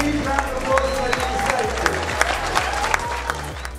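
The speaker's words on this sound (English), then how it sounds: "Can you give them a huge round of applause for the" Applause at a Groundwork Birmingham community event in 2009 honouring the Gorton South programme: steady clapping from an audience, sounding close and busy, with a low rhythmic hum and a few brief voices running underneath.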